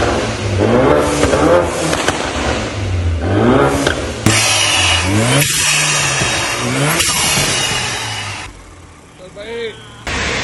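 A remapped BMW F30 328i revs repeatedly up close, each rise and fall of the engine note distinct and loud, with sharp pops between revs and brief voices nearby.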